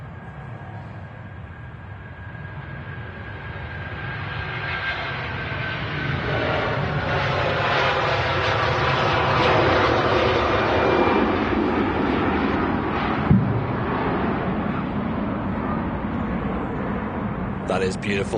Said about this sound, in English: Here we go, Air Transat A330. 200 series in the classic colours,